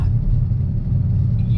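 A Ford S197 Mustang GT idling with a deep, steady low rumble, close by and fairly loud, holding an even tone for a brief moment.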